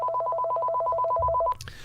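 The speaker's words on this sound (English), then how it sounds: "And it's a cell phone." A cell phone rings with a rapid, steady electronic trill for about a second and a half, clear and close, then cuts off as it is answered.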